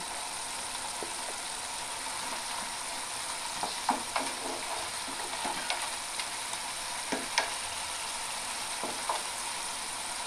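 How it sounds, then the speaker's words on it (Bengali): Fried potatoes tossed into cooked spinach in a pan give a steady close sizzle, with scattered clicks of stirring scattered through it, quiet and without speech. "এবার আমি ভেজে রাখা আলু এর মধ্যে দিয়ে দেব।"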